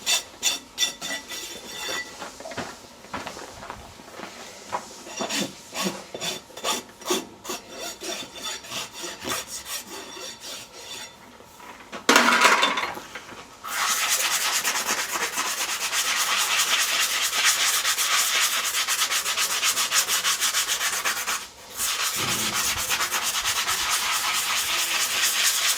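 A farrier rasps a horse's hoof in rapid back-and-forth strokes, first a run of distinct scrapes, then a brief pause and a long, dense stretch of continuous rasping, close and alone.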